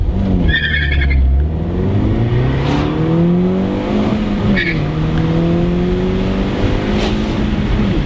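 A manual sports car in sport mode with traction control off launches hard in first gear, its engine revving up loud and close with rising pitch, tyres briefly squealing, then shifting and pulling on.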